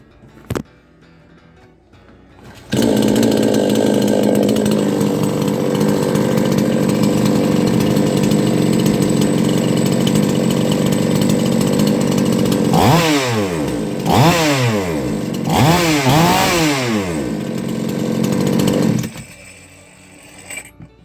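A PROcraft K450 chainsaw engine starts and runs loudly and steadily, then revs up and down in several sharp bursts before cutting off.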